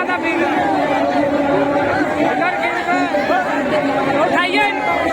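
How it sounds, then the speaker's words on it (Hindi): Dense crowd chatter fills a packed Nag Panchami snake fair at Singhiya Ghat, many overlapping voices murmuring and calling out steadily and close around, with no pause over the whole stretch. "बहुत ज्यादा भीड़ है।"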